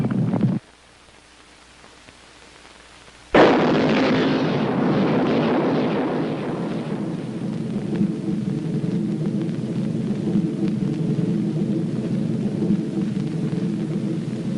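A massive antimatter bomb explosion in a film, a sudden thunderous roar after a quiet stretch that decays into a long, heavy rumbling that keeps going to the end.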